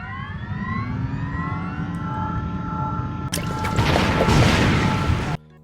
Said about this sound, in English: I have a hoverboard sound. Hover engine.